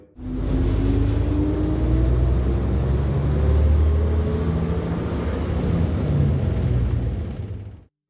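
An old Ikarus IK 161 city bus's heavy diesel engine rumbles steadily with rising and falling tonal whine as it accelerates, loud and close, running continuously for about eight seconds.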